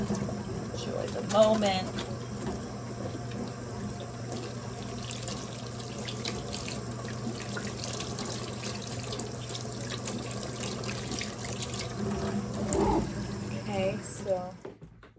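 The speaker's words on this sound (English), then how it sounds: "suds that I have to rinse off" A tap runs steadily into a sink while suds are rinsed away, a constant moderate splashing wash of water with a brief voice at the start and birds faintly in the background.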